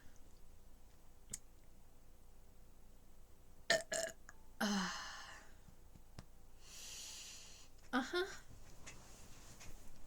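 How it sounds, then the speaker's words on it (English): Several burps, a couple of short ones then longer croaky ones, spaced out over quiet breathing and small clicks, close up and fairly loud. "just so many confirmation burps."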